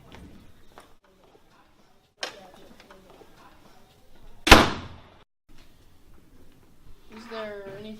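A door shuts with one sharp loud bang as someone walks out, preceded by softer clicks and handling sounds and followed by a voice speaking.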